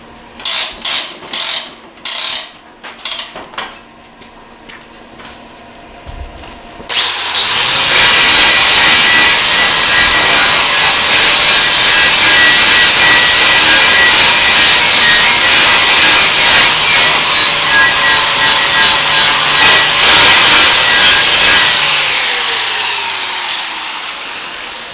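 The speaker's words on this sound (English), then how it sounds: "what I like to use is an abrasive pad" An abrasive pad wheel made of glued sandpaper pieces grinds a plow disk knife, starting with several short ratcheting bursts, then a loud sustained rushing, whining grind that runs nearly twenty seconds before tapering off.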